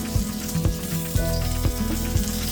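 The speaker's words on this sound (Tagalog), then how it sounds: "Then, fry na natin ang burger patties at least 2 minutes each side." Burger patties fry in oil in a pan with a loud, continuous sizzle, close by, broken by a few soft knocks and thuds at regular intervals, with no talking.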